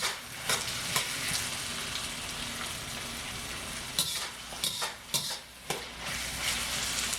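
Fried rice sizzles and is stirred in a hot pan, a steady frying hiss broken by several sharp scraping clicks of a utensil against the pan, with no talking.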